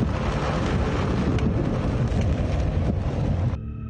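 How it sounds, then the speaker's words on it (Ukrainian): Heavy thunderstorm with a wall of rain and squall wind in Kyiv, a loud dense roar of downpour and rumbling that drops away sharply in the final half second. "Небо аж почорніло, стоїть суцільна стіна з дощу."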